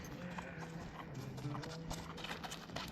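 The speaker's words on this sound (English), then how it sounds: "As you can see, a horse rider," Hooves of a horse clop on a street in Tomsk, Siberia, as a rider passes, soft and somewhat distant, with faint background noise of the town around it.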